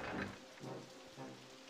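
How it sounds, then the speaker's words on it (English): Heavy rain pours steadily in RollerCoaster Tycoon, a dense wash of noise with low rumbles of thunder swelling in and out beneath it, with no voices. "No one's going to want to ride it quite yet because it's pouring rain"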